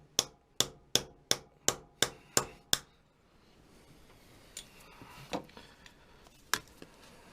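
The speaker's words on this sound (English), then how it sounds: "Let's just go get hammer and punch." A quick series of about nine sharp metallic taps from a hammer on a punch knocking out core plugs on a Kubota B1750 tractor engine, then a few scattered, quieter knocks and clinks.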